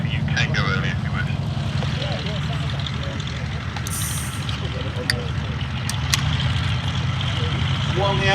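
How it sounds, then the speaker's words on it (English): An Avro Anson taxis in at the Shuttleworth airshow, its propeller engines droning and idling steadily close by, while an announcer talks over the public address. "While the Anson is taxiing in"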